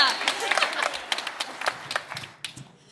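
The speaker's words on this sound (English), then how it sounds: "If we could give a round of applause." An audience at a Rotary Club holiday program claps in a round of applause, dense patter that fades out over a few seconds with a voice briefly over it.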